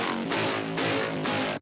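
A synth tone runs through a 6 dB low-pass filter swept by an LFO, its brightness swelling and fading in three slow, even waves, loud and alone.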